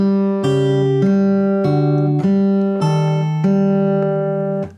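An acoustic-style guitar plays the four-chord walk-up from a song in steady ringing strums, each chord stepping up in turn, close and clear, with the last one fading out.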